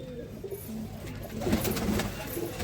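Tilhari pigeons, a male dobaaz and a yellow female, cooing softly in a loft in Bareilly, low repeated coos under steady background noise.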